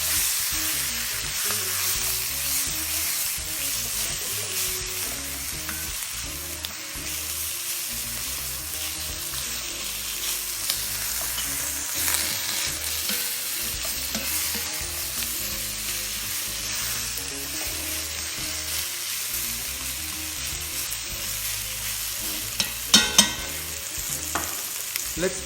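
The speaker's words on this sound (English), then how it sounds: "And now we're going to sear the onion a little bit in the pot." Shallots, onions and garlic sear in a pot, giving a dense, steady sizzle throughout with occasional stirring scrapes and a few sharper clicks toward the end.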